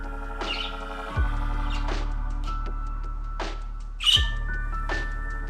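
Budgies in an indoor room with a grapevine and bird of paradise plant give sharp squawks and chirps at irregular intervals over a steady low electrical hum, with no voices.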